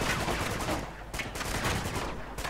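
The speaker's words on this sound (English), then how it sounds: "That's blind firing, right?" Rapid blind-fire gunshots in Uncharted 2: Among Thieves, a loud unbroken burst of rattling automatic fire close by with no talking.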